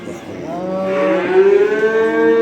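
Cattle at a livestock bazaar give a long, loud, drawn-out moo with a rising, siren-like tone, close by over a steady crowd murmur.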